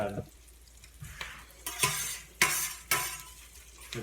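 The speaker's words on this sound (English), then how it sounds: "So I just sort of mix it all in." Pulled pork and salmon are stirred in a frying pan, with a soft sizzle beneath several sharp scrapes and clinks of a utensil against the pan, spaced about half a second apart.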